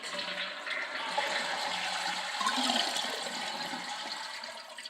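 A toilet flushing as the tank is drained before a flapper replacement, a steady rushing wash of water that stays close and fairly even for several seconds with no one talking.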